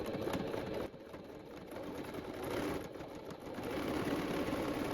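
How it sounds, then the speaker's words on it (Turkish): A sewing machine stitches a pleat on a tunic in quick close bursts of rapid mechanical whirring, pausing briefly between runs, with no speech. "Dikerken şöyle bir milimden dikiyorum"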